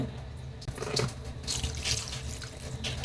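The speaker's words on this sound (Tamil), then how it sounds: "கொஞ்சமாக தண்ணி ஆட் பண்ணிக்கலாங்க" Water pours steadily into a pan of mutton liver pepper gravy as it cooks, making a continuous rushing splash with small gurgles. The sound is close and there is no talking.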